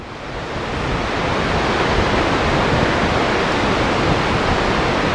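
Water rushes loudly and steadily at Bonneville Dam on the Columbia River, a dense continuous roar that swells slightly in the first second and then holds even, with no voices.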